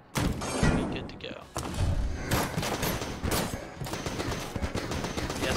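Rapid AK-47 gunfire from the roguelike shooter Enter the Gungeon, dense bursts of automatic shots running nearly the whole time after a brief pause, mixed with game effects and a voice talking over it.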